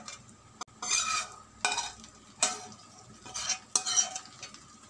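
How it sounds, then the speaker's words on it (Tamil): Prawn gravy is spread over layered biryani rice in a pot for an Arabic-style prawn dum biryani, giving a few bursts of scraping and stirring with a spoon against the pot, with short quiet gaps between strokes. "கிரேவி ரைஸ் ஃபுல்லாக வர மாதிரிக்கா இது மாதிரி நல்லா ஸ்ப்ரெட் பண்ணி விட்டுக்கலாம்."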